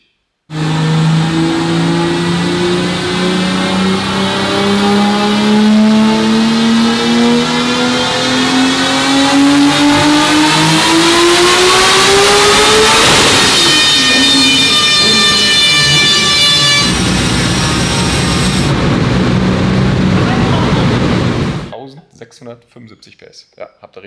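A powerful Abarth car engine revs hard on a dynamometer and climbs steadily in pitch for about twenty seconds at full throttle, then cuts off abruptly, leaving faint rattles.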